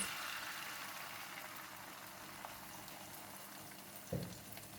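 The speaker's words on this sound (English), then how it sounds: "Pour in all the eggs. Cook it for 30 seconds." Eggs fry in cooking oil in a pan with a soft, steady sizzle and crackle, fairly faint and continuous, with one brief clunk near the end.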